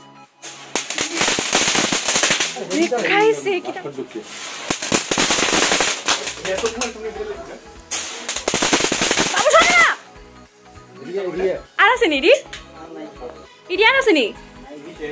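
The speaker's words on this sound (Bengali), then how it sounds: "এখন যে বাজিগুলো ফাটাচ্ছে সেগুলোকে চকলেট বাজি বলে আই গেস" Chocolate bomb firecrackers going off outdoors during a celebration, loud sharp bangs in dense rattling bursts separated by short pauses, with people talking and exclaiming between and over the blasts.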